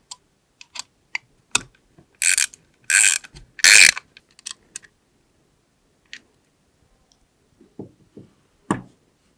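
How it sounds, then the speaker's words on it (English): Screws being tightened on the cover of an Asahi/America Series 92 electric actuator, heard as scattered sharp mechanical clicks and a few longer ratcheting bursts, close up and separated by quiet gaps. "Next, tighten all 8 cover screws."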